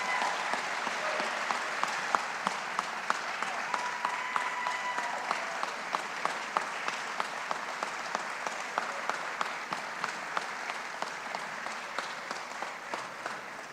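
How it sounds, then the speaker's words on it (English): At a government announcement on SNAP food assistance, an audience claps for a long stretch, an even, moderately distant patter of many hands with a few sharper individual claps standing out throughout. "Can we get a round of applause for them?"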